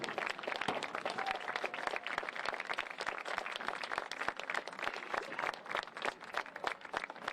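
A crowd applauds at a college softball game between GGC and Talladega, honoring service members before the first pitch; dense, steady clapping runs throughout at moderate distance, with no talk over it.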